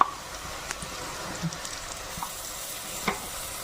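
Crushed ginger, green chilli and garlic sautéing with softened onion for pressure-cooker chicken biryani, a steady close sizzle with occasional scrapes and stirs of a spoon in the pan.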